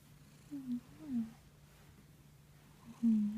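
A friendly pet cat purrs softly and close by, with brief low rumbling bursts and a faint steady hum underneath.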